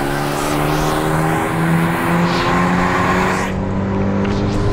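A Renault Megane RS race car engine accelerates hard in a loud, close, unbroken drone, its pitch climbing steadily before a brief dip, with no voices.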